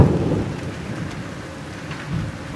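A heavy thunderstorm rolls over Jelgava, Latvia, with dense steady rain roaring close by and low rumbling thunder swelling at the start and again near the end, with no voices.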